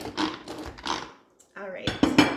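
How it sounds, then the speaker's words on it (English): Kit Kat bars are crunched and ground in a Pampered Chef manual food processor, giving clattering, rattling bursts of plastic and candy with a short pause midway and a brief voice-like sound. "here's some more Kit Kats being ground up in there"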